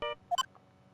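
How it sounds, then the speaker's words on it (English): Phone ringtone in the Phoenix Wright: Justice For All video game: a short synthetic chime of a few bright electronic tones, heard alone and fairly quiet, lasting under a second. "What is this stupid sounding ringtone?"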